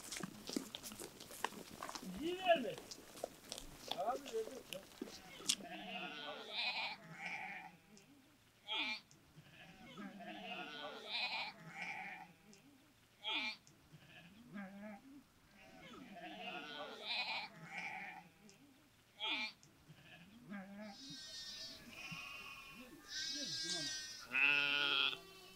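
Lambs and sheep of a village flock bleat in repeated calls, some close and some farther off, with quiet gaps between them and a few higher lamb cries near the end.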